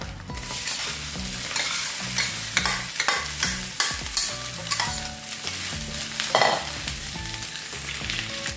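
Garlic fried rice is stir-fried in a pan with a continuous sizzle and repeated scraping, tossing strokes of the spatula, loud and close with no talk.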